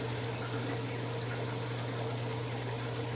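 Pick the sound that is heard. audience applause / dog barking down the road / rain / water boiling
water boiling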